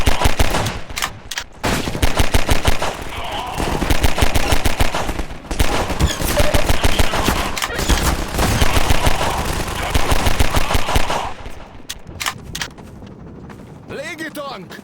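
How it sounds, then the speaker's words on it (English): A turret machine gun in Half-Life 2 firing long, loud, rapid bursts at close range, dense rattling volleys almost without pause, easing into scattered shots near the end. "we added a turret to the container to defend the soldiers as they exit"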